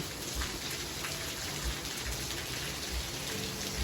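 Heavy morning rain at a construction site in Thailand, a dense steady hiss of downpour with scattered low thumps of drops striking surfaces, continuous and close with no voices.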